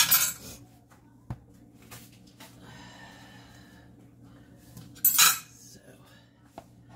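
Metal utensils clink against dishes while potatoes, ham and eggs cooked in an Instant Pot are plated, with a few sharp scrapes and taps spread across a quiet stretch and a louder clatter near the end.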